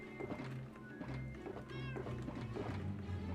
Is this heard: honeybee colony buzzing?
no